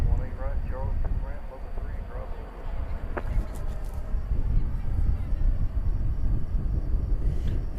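A CRJ regional jet passes at DFW Airport at night, a steady broad roar sustained throughout with a brief sharp click midway and faint background chatter.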